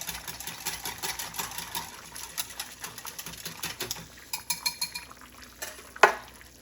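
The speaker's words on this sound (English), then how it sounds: "I am just going to kind of whiz that into this milk with a whisk." Quick rhythmic clinking of a whisk beating thickening mixture into milk in a glass measuring bowl, fairly faint and close, ending with a sharp tap against the glass.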